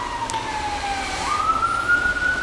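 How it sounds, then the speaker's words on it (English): An emergency vehicle siren wails as it passes along a road, its tone sliding down and then rising again, heard steadily over a low traffic rumble without talk. "I'm just going to hold on until that siren's gone."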